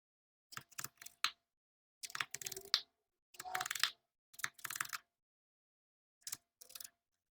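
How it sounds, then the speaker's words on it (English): A knife dices a jalapeno on a cutting board for guacamole, quick bursts of close, crisp chopping taps separated by short pauses, with no talk. "We're cutting about into 8s, and then we're gonna dice it this way."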